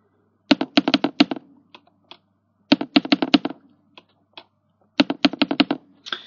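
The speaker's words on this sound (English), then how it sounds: "I'm just typing in something very fast here." Fast typing on a computer keyboard, crisp close key clicks in quick bursts separated by short pauses, with no talk.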